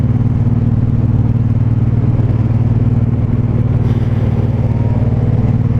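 Steady, loud rumbling engine drone from a 2019 Suzuki M109R cruiser motorcycle while riding, holding an even throttle throughout with constant wind and road noise and no talk.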